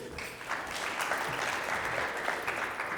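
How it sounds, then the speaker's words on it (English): An audience claps steadily at a digital marketing talk, a dense even wash of applause that holds for the whole stretch at moderate level. "warm round of applause."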